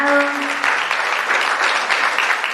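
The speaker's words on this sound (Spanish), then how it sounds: "Aplaudemos a Bernarda" Audience applause at a Spanish-language neuroscience lecture, steady dense clapping from a crowd lasting throughout, with a brief tonal note at the start.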